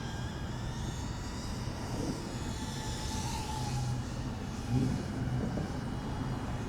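A Flyfish M10 FPV model airplane in flight gives a constant, close motor and propeller whine over wind rush, with slight pitch shifts as it cruises steadily, no voices present.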